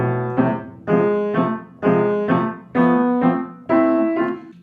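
Keyboard played in short, precise staccato, a handful of clipped chords in an even rhythm with brief gaps between them, clear and close with no talking.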